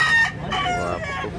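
Chickens and roosters at a poultry market in Carbon, Cebu, crow and cluck close by, with overlapping short calls and a rising cock-a-doodle-doo in a busy setting.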